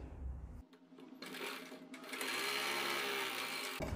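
A sewing machine runs a quarter-inch seam along a strip for a western-type blouse, a close, steady whirring that starts and stops briefly before settling into continuous stitching.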